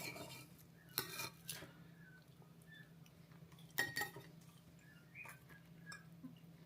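A knife slicing a homemade Scotch egg in half on a plate, giving a few soft scrapes and light clinks against crockery at moderate distance over a steady low kitchen hum, no talk.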